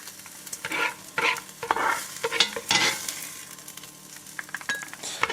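Chunks of bacon fry in a pan on a barbecue setup, a steady close sizzle with bursts of stirring and scraping that swell and fade over a few seconds, with light clinks near the end and no talking.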